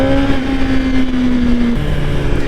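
A 2024 Suzuki GSX-R1000R liter-bike engine pulls hard in second gear, a loud close drone that holds a steady pitch and then drops briefly, heard alone.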